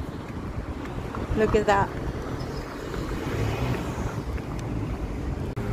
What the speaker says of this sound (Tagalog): So the weather is quite nice. It's not that hot though. And it's windy.